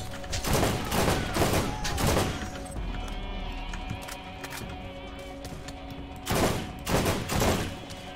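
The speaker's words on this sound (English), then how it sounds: "Where's he shooting from?" Video game Borderlands gunfire: loud bursts of rapid shots near the start, a quieter gap of tonal game ambience, then another burst of shooting toward the end, without talk.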